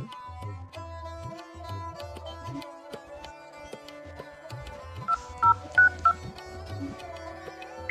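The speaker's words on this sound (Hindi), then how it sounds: "अपने रजिस्टर्ड मोबाइल नंबर पर प्राप्त किए गए 4 अंकों का OTP दर्ज करने के लिए 1 दबाएं।" Telephone keypad DTMF tones enter an OTP during ICICI phone banking: four short, evenly spaced beeps stand out clearly over a quieter tonal background on the line.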